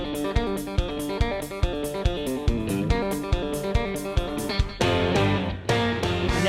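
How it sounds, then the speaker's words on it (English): A clean, traditional country electric guitar tone, with the bass cut back slightly, plays twangy melodic lines over a steady drum beat and backing band, bright and upfront throughout. "The first one is a clean traditional country tone."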